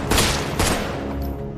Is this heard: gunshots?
yes